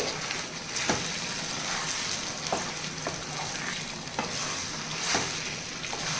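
Coconut and cashew paste is stirred in a frying pan, a steady hissing sizzle with repeated light scrapes of a spoon against the pan, close and without talk.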